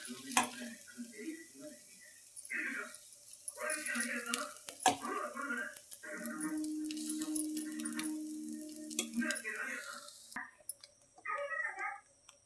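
Cooked rice is stirred into a carrot mixture in a pan, with intermittent scraping and clinking strokes of a spoon, while a voice talks and background sound plays throughout.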